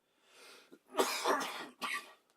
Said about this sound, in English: coughing here